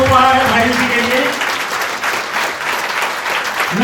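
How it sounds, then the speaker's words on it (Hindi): An audience at a motivational lecture breaks into loud, sustained applause, with a voice audible at the very start before the clapping carries on thickly to the end. "एक बार जोरदार तालियां, यही हमारा गिफ्ट है आपके लिए"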